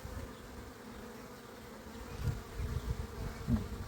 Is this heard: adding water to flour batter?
no